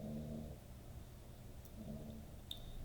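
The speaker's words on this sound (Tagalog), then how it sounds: "May narinig ba kayo nag-snore? Yung aso ko po yun." A dog sleeping under a table snores softly, two slow, low rumbling breaths spaced a second or so apart, faint and close in an otherwise quiet room.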